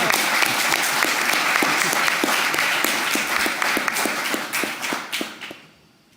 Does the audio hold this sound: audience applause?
yes